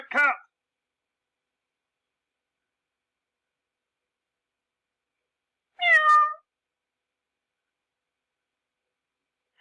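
A cat lets out two short, clear meows, one at the very start and another about six seconds later, close and alone with silence between them.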